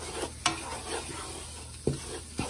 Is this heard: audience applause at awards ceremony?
no